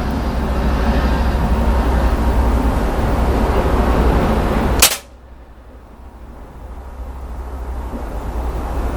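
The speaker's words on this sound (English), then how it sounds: "This is the last shot." A single sharp shot from a Beeman 1357 pistol cuts through steady loud background noise, followed by a much quieter stretch with no talking.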